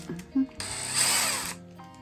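A handheld power drill whirs up briefly after a bit change during a thrift-store decor makeover, a steady close whine lasting about a second with faint talk just before it.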